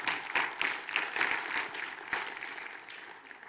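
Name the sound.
audience applause in church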